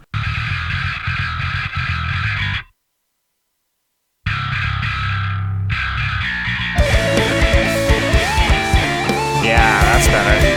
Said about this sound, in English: I think I have too much distortion on these sounds now.